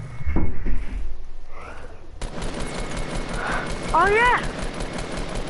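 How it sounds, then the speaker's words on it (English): Gunfire in the battle royale game Fortnite: a few loud shots crack early on, followed by quieter game sounds and some rising chirps, with a player speaking briefly over it. "Me too, I shot him a couple of times."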